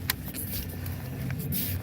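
Pickup truck engine idling and revving gently while being moved to park, a low steady rumble with a few brief higher bursts and faint clinks on top.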